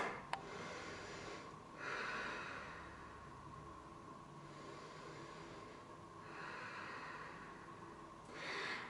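Slow, steady breathing during a live yoga class, with three soft broadband swells of inhale and exhale spaced a few seconds apart over a faint steady hum, no talking.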